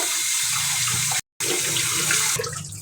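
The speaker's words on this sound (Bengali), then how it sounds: "এখন রুই মাছগুলোকে ভালো করে ধুয়ে নেওয়া হয়েছে।" Rohu fish rinsed under a running kitchen tap, a steady close hiss of flowing water with a brief silent gap partway, then water splashing over the fish again.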